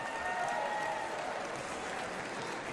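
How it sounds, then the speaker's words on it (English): Crowd applauding and cheering for a heavyset dog, steady dense clapping and voices filling the whole stretch at moderate distance. "They're all cheering for the dog."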